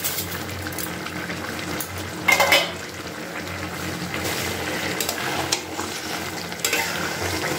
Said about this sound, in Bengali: দিয়ে খুব ভালো করে এটাকে নাড়াচাড়া করে আবার মিশিয়ে নিচ্ছি